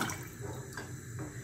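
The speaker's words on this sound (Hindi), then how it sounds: "ये पानी डाल देना।" Water poured into a pan on the stove makes a steady close splashing stream, moderately loud and continuous, with no talking.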